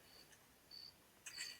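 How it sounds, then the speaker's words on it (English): Crickets chirping as a quiet sound effect, a few faint high trills in short bursts over low background hiss. "You've got the crickets and all that."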